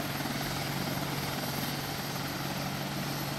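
A helicopter in the video game Arma 2 flies low with a steady, loud rotor and engine drone that holds evenly from start to finish, with no other sounds.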